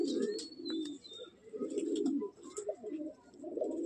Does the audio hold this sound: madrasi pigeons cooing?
yes